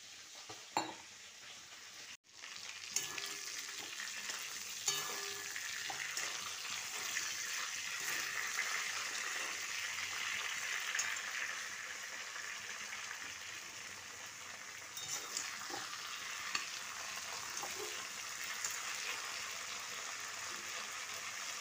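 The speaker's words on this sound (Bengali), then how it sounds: "এবার এই লঙ্কার গুঁড়ো জলটা দিয়ে দিলাম।" Water mixed with Kashmiri chilli powder, turmeric and regular chilli powder poured into a hot pan for mutton rogan josh, a quiet steady hiss of sizzling that holds evenly throughout, with a few light clinks of utensils.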